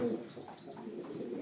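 Pigeons cooing inside a coop in a gecekondu home, a soft low coo near the start, fairly quiet among faint rustling and background noise.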